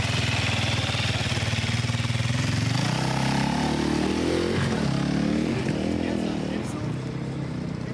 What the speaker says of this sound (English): Motorbike is here, so heads up because they should be here soon.